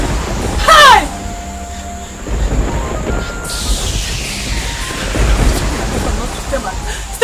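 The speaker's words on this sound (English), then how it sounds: "This thunder and lightning," A thunderstorm with a sharp crack of thunder followed by a long rolling rumble and a steady wash of rain, loud and close.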